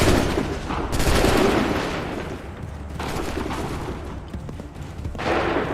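Volley of gunfire from a line of musket-armed soldiers in the Assassin's Creed video game, Connor's era, as broad loud blasts swelling and fading over several seconds amid battle noise, with no talk.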